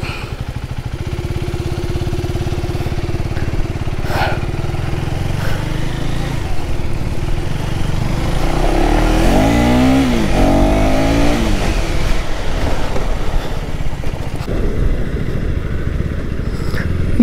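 A third-generation KTM Duke 390 motorcycle is ridden in street mode. A loud, continuous engine drone rises and falls with revving and gear changes as wind rushes steadily past the close recording.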